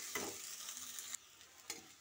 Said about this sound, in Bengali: স্বাদ মতো নুন দিয়ে এটাকে ভালো করে কষাতে হবে।